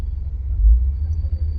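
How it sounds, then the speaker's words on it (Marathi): Road traffic on the way to Mulshi heard as a steady low rumble of passing vehicles, close and continuous with a brief swell, with no talking. "तुम्ही पाहू शकता ट्रॅफिक केवढे इथे."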